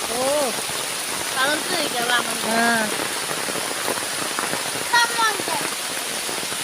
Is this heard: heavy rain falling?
yes